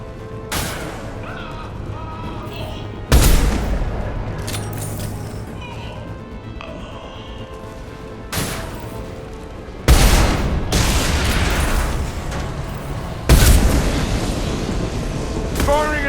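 Gunfire and a heavy explosion from a loosened fuel tank ring out in the video game Mass Effect 2 Legendary Edition, with loud booming blasts at intervals over ongoing shooting and combat noise.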